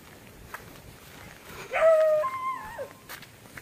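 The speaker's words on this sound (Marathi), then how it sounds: "ते बघा तो कुत्रा कसा भुकायला लागलाय" A dog in a rural hillside setting lets out a single drawn-out whining bark or yelp toward a stranger, moderately close over quiet outdoor background.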